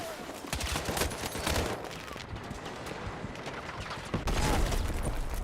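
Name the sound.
TR7 gunfire in Battlefield 6 video game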